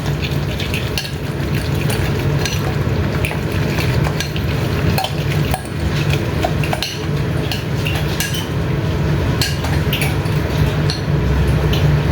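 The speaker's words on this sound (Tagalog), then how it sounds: "Malapit na maluto po yung aking yung nilulutong ginisang upo with shrimp." Bottle gourd (upo) and shrimp sautéing in a pan, a steady sizzle of frying under repeated scraping and stirring with a utensil, with metallic clinks of spoon against pan throughout, close and continuous.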